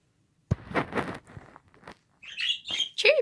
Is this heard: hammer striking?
no